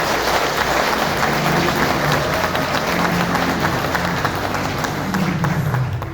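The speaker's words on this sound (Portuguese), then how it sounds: "Uma salva de palmas para eles." An event audience applauds in a loud, continuous wash of clapping that stays steady throughout, with faint crowd voices mixed in.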